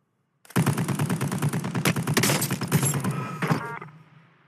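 Rapid automatic gunfire from Warzone Mobile, a hard-recoiling weapon firing a dense, loud burst of about three seconds, with a final shot and a short tail.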